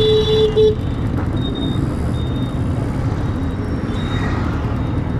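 Busy road traffic in Tamil Nadu heard from a moving motorbike, with a steady roar of engines and brief horn toots, including a clear high honk near the start and several shorter beeps afterward.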